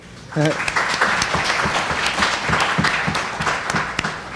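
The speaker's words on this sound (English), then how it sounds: "A round of applause for him" Audience applause at a Brooklyn book festival panel breaks out in a steady wash of clapping, with a voice speaking over it near the start and the claps running on evenly throughout.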